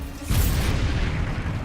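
Bombarda explosion spell in Hogwarts Legacy, a sudden deep booming blast that erupts loudly and rumbles on with a sustained low roar after a brief lead-in.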